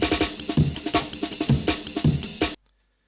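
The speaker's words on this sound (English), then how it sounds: "And the last snare," A jungle beat runs with a punchy snare drum sample hitting in a fast breakbeat pattern, loud and busy for a couple of seconds before cutting off abruptly into silence.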